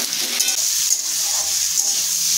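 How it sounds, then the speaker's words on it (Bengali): Potato pieces frying alongside bitter gourd and garlic in a pan, giving a steady close sizzle with a few light stirring scrapes and no voices. "এবার উচ্ছের সঙ্গে আলুটা ভালো করে ভেজে নেব।"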